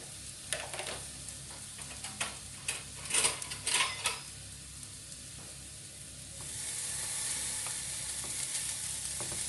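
Rice and meatballs frying in a pan over reduced heat, a steady sizzle with scattered scraping stirs and clinks of utensil against pan, the frying hiss swelling toward the end.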